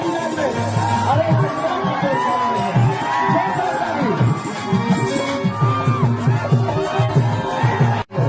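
A large crowd cheers, whoops and shouts steadily at a Khesari Lal Yadav stage show in Kaimur, a dense, loud roar of voices with scattered whistles and no clear separate clapping, cutting off abruptly at the end.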